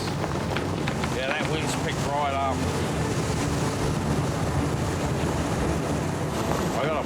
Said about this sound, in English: Gale-force winds have sprung up.